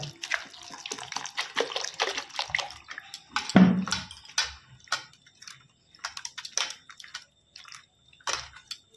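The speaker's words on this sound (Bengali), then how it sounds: "এবারে আলুগুলো জল দিয়ে ধুয়ে নিব 2 থেকে 3 বার।" Grated potatoes being washed in a bowl of water in a home kitchen, close sloshing, splashing and dripping in irregular bursts with brief pauses between handfuls.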